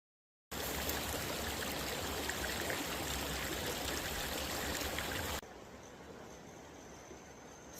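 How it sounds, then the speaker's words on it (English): A creek's water rushes past a small waterfall on a backpacking trip at West Clear Creek, a loud, steady wash that starts abruptly and then drops to a quieter, more distant flow near the end. "You can hear the water running."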